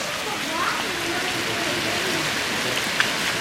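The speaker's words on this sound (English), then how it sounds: "This rain is nuts." Heavy rain pours during Hurricane Irene in Philadelphia, a dense, steady roar of water hitting the street and surfaces, loud and continuous throughout.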